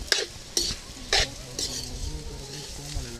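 Shallots sautéing in a pan, a steady sizzle broken by four sharp spatula clanks against the metal early on, then softer stirring.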